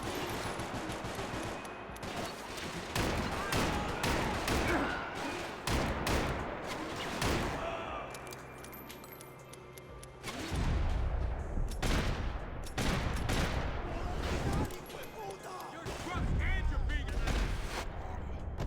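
Shots from Max Payne 3 crack in repeated bursts and rapid volleys across a long stretch, with heavy low booms and short lulls, loud and close, while a voice talks over the fighting.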